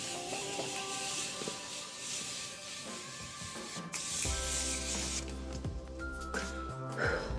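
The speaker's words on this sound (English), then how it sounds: "I'm going to set my face with the Morphe Continuous Setting Mist." A Morphe Continuous Setting Mist is sprayed onto a face as the last step of bridal makeup, with a hiss of fine mist over steady background music.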